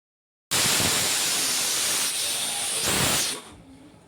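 A pressure cooker lets out a loud, continuous whistle of escaping steam that starts abruptly, holds strong for about three seconds with slight wavering, then fades to a weaker hiss.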